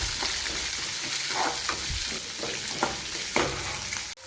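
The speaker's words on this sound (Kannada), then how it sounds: "ಈ ಥರ ಫಸ್ಟ್ ಆನಿಯನ್ ನೀಟಾಗಿ ಫ್ರೈ ಮಾಡ್ಕೋಬೇಕು" Onions frying in a pan in a home kitchen, a constant bright sizzle close by, broken now and then by stirring scrapes and soft knocks, with a sharp clunk near the end.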